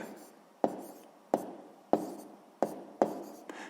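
Pen or pencil marking numbers on paper while solving a sixth-grade maths exercise, five or six short distinct scratchy strokes spaced about half a second apart, close and quiet.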